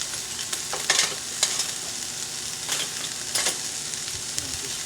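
Vidalia onions sweating in an oiled pan, stirred so that steady frying sizzle is broken by a few sharp scraping strokes of the spoon, close and continuous, with no one talking.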